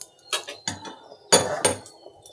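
Metal clatter from a pan of potato and eggplant cooked with shrimp as the lid is lifted and the food stirred: two or three bright clanks and scrapes, close and fairly loud, with no talking.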